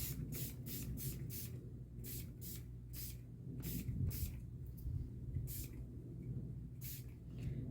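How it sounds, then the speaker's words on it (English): A Tattered Angels spray bottle of glimmer mist used over craft paper, giving a series of short, sharp spritzes in irregular bursts of two or three, with faint background talk and handling sounds between them. "This is Tattered Angels. Oh, it sprays."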